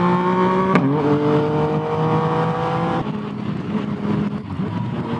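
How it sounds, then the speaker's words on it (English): A Yamaha FZ-09 motorcycle engine holds a loud, steady high-rev drone, then the pitch drops as the throttle eases off. The engine stays close and continuous, with no talk. "You get up there in RPMs, you lay off a little bit, and then it pops."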